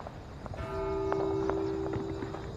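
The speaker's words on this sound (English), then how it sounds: "Why are the bells ringing?" A church bell rings in The Walking Dead: Saints & Sinners game world, its sustained metallic tone sounding at moderate volume over a dull background rumble and faint scattered knocks, with no talking.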